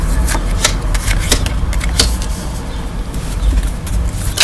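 Tarot cards being shuffled by hand during a reading, a steady run of crisp riffling snaps and papery flutters, close and fairly loud, with no talk over it.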